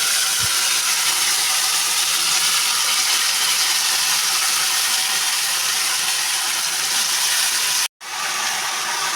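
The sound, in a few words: jujube (kul) pieces sizzling in hot oil in a wok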